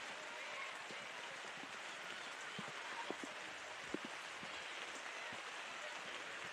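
Heavy rain pours onto the pitch at a women's college soccer match, a dense steady hiss with scattered soft thumps and faint crowd noise underneath.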